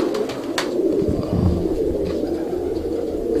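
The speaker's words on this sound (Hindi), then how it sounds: "अभी मैं आपको एक सब्ज़ कबूतर दिखा रहा हूँ।" A green Iranian pigeon coos in low, repeated throaty calls close by, over a steady background hum with no talking.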